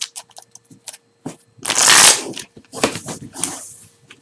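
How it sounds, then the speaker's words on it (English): Playing cards riffle shuffled by hand, with scattered light taps and handling followed by two quick fluttering riffles, crisp and close, with no talking. "yeah, I do Riffle Shuffle"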